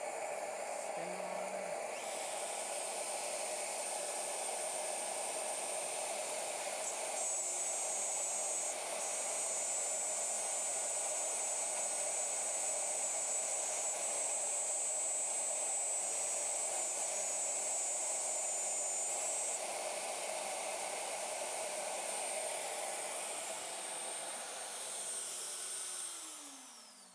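A Shaper workstation's router spindle running and cutting, with its dust extraction going, makes a steady loud whine and hiss that holds for about 25 seconds before winding down, with no talk.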